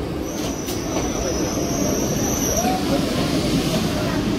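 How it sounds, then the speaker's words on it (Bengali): A train pulls into a station platform at Bangaon on a foggy morning, with a steady rumbling roll, a faint high wheel squeal and a brief curving tone, under background crowd murmur. "ট্রেন ঢুকলো, এখন বাজে 8:32, 2 নম্বরে।"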